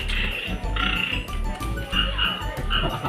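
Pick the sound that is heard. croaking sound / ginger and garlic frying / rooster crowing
croaking sound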